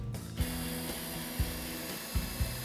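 A power driver sets screws into a southern pine potting table, giving a steady mechanical whir with a few rhythmic clicking ratchet pulses close by.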